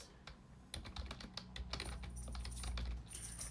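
Typing on a computer keyboard during a livestream, a quick uneven run of close, crisp key clicks that pick up pace after a short pause, with no voices.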